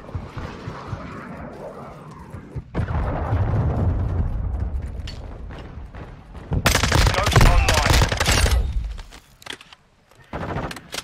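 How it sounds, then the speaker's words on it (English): Cruise missile strikes in Call of Duty: Modern Warfare 2 multiplayer: loud rolling explosions and rapid gunfire build into a dense barrage, peak in heavy booming blasts, then drop away and return, with a player talking over the action. "Hostile cruise missile incoming."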